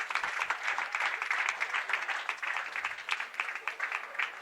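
Bowling-center crowd at a senior masters match play event applauds and cheers for Norm Duke, a dense, steady wash of clapping lasting the whole moment.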